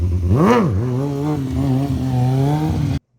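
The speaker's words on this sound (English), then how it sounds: "Listen to the sound versus how your bike sounds." Stunt motorcycle engine revving hard during a staggered wheelie, rising in a quick sweep then settling into a steady, loud mid-pitched drone that cuts off abruptly.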